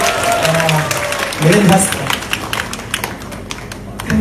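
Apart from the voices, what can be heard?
audience applause welcoming saxophonist Jim to the stage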